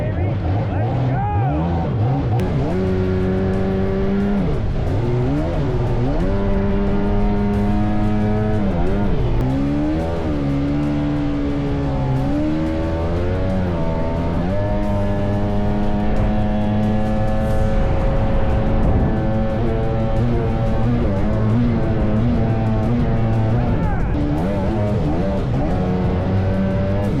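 A Kawasaki 650SX stand-up jet ski engine runs on the water, a loud steady motor drone that rises and falls in pitch as it revs and eases off throughout, with people talking over it.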